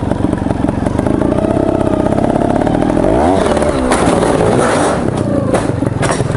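A motorbike revs hard in second gear and crashes into a clothes dryer, the loud engine roar rising before a sudden clattering, scraping impact and scattered debris noise.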